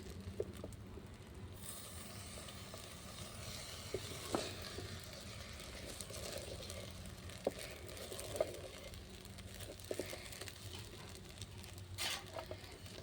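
Rice and lentils frying in a pan as a ginger, garlic and pepper paste goes in, a soft continuous sizzle with occasional clicks and stirring scrapes, quiet and steady throughout, no voices.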